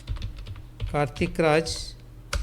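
A name is typed on a computer keyboard during accounting data entry, with quick bursts of close key clicks and a voice briefly speaking over them.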